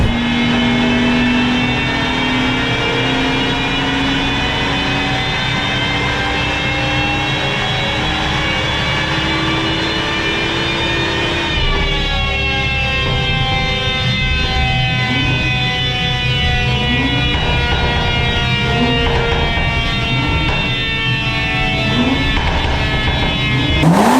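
A BMW M140i with a stage 1 tune and stock exhaust revs on a dyno, its engine note loud, close and sustained, the pitch climbing steadily, then dropping and rising again through several rev sweeps with no talk over it.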